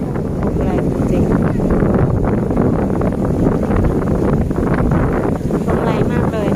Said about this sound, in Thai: ลมแรงมากเลยนะ